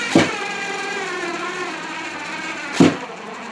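A cordless screwdriver hums steadily at close range while driving screws into wood, with two brief knocking thumps at the start and near the end.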